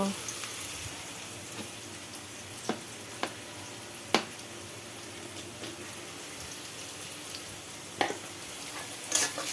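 Vegetable bhaji with ginger and garlic frying in a pan, giving a soft continuous sizzle broken by a few sharp clicks and stirring taps, close and fairly quiet with no talking.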